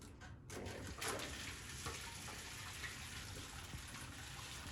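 Water pours steadily out of holes in two containers in a hydrostatics demonstration. It makes a continuous, faint gushing and splashing, with no talk over it.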